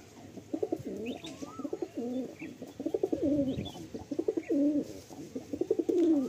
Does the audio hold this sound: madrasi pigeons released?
yes